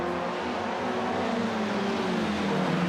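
F1600 open-wheel race cars at Grand Prix Trois-Rivieres scream into a turn, a continuous loud blend of high-revving engines with shifting pitch as the field bunches together.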